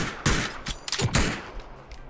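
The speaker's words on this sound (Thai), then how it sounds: "รอปืนกลยิงก่อน เ ว้ ย เออยิงอยู่ยิงอยู่ยิงอยู่" Machine gun fire in PUBG, several sharp bursts of rapid gunshots spread over about two seconds at moderate distance, with no talk.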